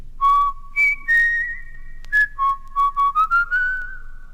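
A short, clear whistled tune of separate, bright notes with brief gaps between them, played alone and close by.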